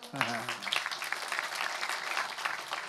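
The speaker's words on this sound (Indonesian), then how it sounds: "Ya tepuk tangan dulu." Audience applause at an evening talk event, a steady patter of clapping running the whole time with a voice speaking over the start.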